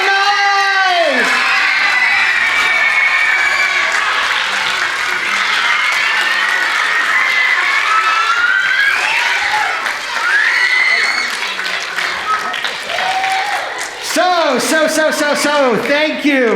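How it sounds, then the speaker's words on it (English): A standing audience at a grade 4 theatre festival claps and cheers loudly, with whoops and shouting over steady applause, a voice calling out briefly near the end. "the biggest round of applause for Miss Moon."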